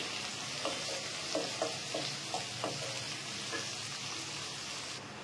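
Tomato pieces frying in a pan for an egg curry, a soft continuous sizzle with a few light stirring knocks, faint and close.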